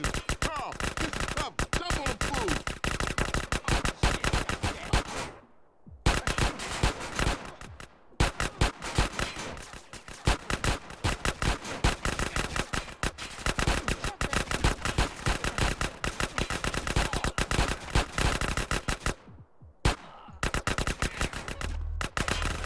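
Rapid automatic gunfire from a GTA San Andreas shootout, dense continuous bursts of shots filling nearly the whole stretch with only a few brief pauses, loud and close.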